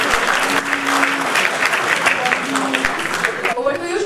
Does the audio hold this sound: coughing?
no